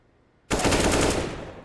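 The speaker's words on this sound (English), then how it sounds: "Nice clean headshot there from the AK." An AK rifle in CS:GO opens up after a half-second of quiet, a loud, close burst of rapid shots that rattles on and slowly fades, with no talk over it.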